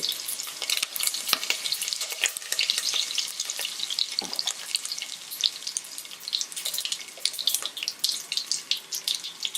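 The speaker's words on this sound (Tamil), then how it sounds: "பெருங்காயம் எல்லாம் சேர்த்துட்டு நம்ம வெட்டி வச்சிருக்கிற வெங்காயத்தை உள்ளே போட்டு நல்லா வதக்கிட்டு" Cumin seeds and curry leaves crackle and sizzle in hot oil in a pan for pongal kuzhambu, a dense, steady spatter of close popping with scattered sharper crackles and no talking.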